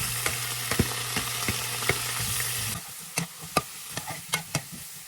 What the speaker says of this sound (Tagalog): Tapos is magisa ako ulit dito ng igisa ko dyan yung ating cabbage